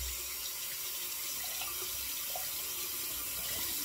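A tap runs steadily to rinse a double-edge safety razor, a constant close hiss and splash of flowing water without a break.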